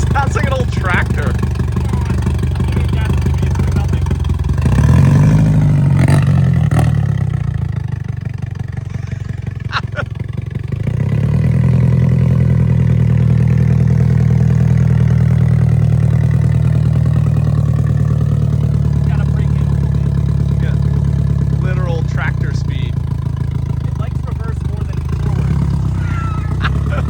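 A VW Mk2 Scirocco 16v engine runs steadily at idle with a loud low rumble throughout, briefly revving around a quarter of the way in, while people talk over it.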